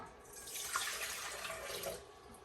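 Hot water runs from a tap to make bread dough, a steady splashing stream that swells and eases over a couple of seconds, close by with no voices.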